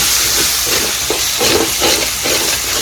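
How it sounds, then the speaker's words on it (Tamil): Onions with ginger-garlic paste sautéing in a pan for a green mango chicken masala, giving a steady loud sizzle with rhythmic scraping strokes of the stirring spoon roughly every half second. "பூண்டெல்லாம் ஆட் பண்ணி நல்லா கொஞ்சம் நேரம் வதக்கி கொடுத்துட்டோம்"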